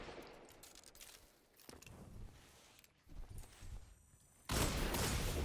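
Explosive-round gunfire in a first-person shooter: bursts of muffled shots and impacts that rise and fall, ending in a loud sustained blast of fire, with no voices.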